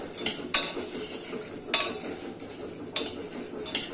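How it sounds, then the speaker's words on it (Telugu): Unwashed toor dal roasts dry in a pan while a metal spoon stirs it, giving sharp scraping clinks every second or so over a faint, soft rustle. "కందిపప్పు కొంచెం కడగకుండా వేయించుకోండి."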